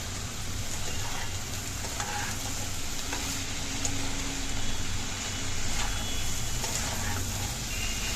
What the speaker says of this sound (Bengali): আরও কিছুক্ষণ এইভাবে নাড়াচাড়া করে ভেজে নিতে হবে